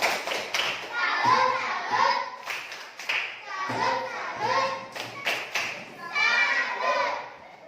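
A classroom of children performs a 'tepuk salut' clapping routine, with rhythmic hand claps and thumps mixed with their chanting voices in unison, lively and close throughout.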